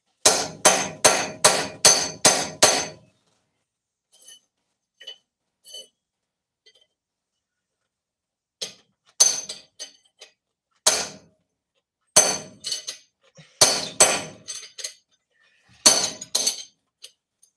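A homemade chisel is driven by sharp, ringing hammer blows through steel C channel and 3/16 inch plate: a rapid burst of strikes at first, then scattered single and paired hits with quiet gaps between them.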